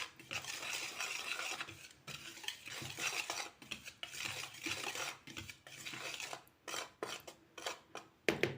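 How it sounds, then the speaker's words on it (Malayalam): A spoon mixes spices and turmeric powder in a bowl, making repeated scraping and clinking strokes in an uneven rhythm. The sound is close but quiet, with no talk. "ഇതെല്ലാം കൂടി നമുക്ക് നന്നായിട്ട് മിക്സ് ചെയ്തെടുക്കണം."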